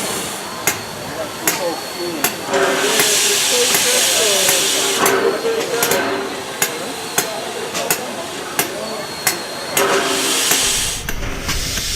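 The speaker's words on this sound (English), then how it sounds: "this is a real train using steam and all" Loud, steady steam hissing close by from a real coal-fired steam train at Dollywood, punctuated by sharp metallic clanks at irregular intervals, with a broad roar underneath.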